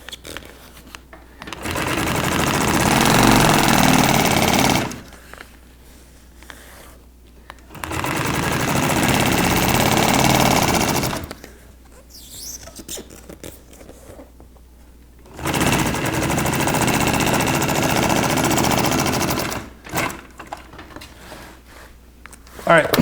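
A sewing machine stitches boat canvas in three steady runs of rapid mechanical clatter, separated by quiet pauses with faint handling noises.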